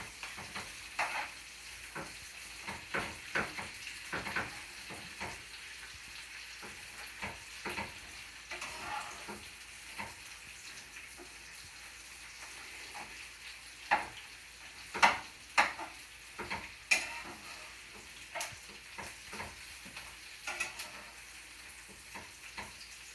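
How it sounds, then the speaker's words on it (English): Oil and butter sizzle and bubble steadily in a frying pan. Irregular clicks and scrapes come and go close by as the pan's contents are stirred and spread, with a few louder taps toward the end. "Oh, oil's bubbling."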